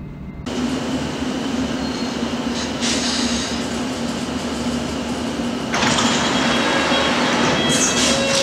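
A London Underground Metropolitan line train arriving at Aldgate rolls in with a steady loud rumble of wheels on track, a continuous mechanical hum and a brief high squeal near the end, close by with no talking.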